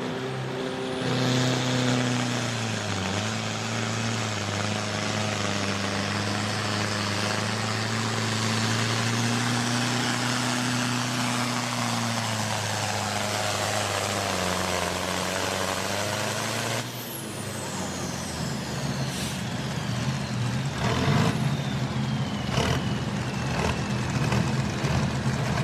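A four-cylinder intercooled Ford 7000 tractor with a turbocharger pulling at a tractor pull, a loud sustained engine drone with turbo whine that drops off abruptly near the end, followed by rattling and distant engine noise.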